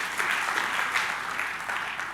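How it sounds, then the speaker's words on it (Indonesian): A crowd at a church Sunday service claps steadily and fairly loudly for a couple of seconds, with no voices. "tepuk tangan bagi anak kita."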